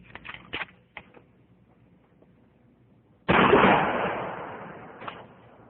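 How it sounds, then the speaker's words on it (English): A shotgun fires a rifled slug at a mannequin, a single loud blast that decays slowly, following a few faint clicks and knocks. "the mannequin is shot with a rifled slug"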